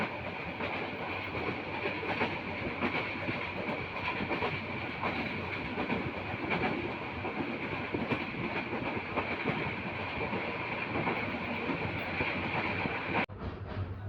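A passenger train runs on rails toward Bhairab and Brahmanbaria, heard from on board as a continuous, fairly loud rumble with a faint rhythmic clatter. It stays steady until a sharp knock just before the end.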